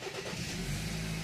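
A BMW X4 SUV engine turns over and catches, a brief low mechanical rumble rising into a faint idle, heard from nearby at low volume.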